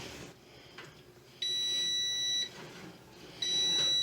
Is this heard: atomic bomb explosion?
no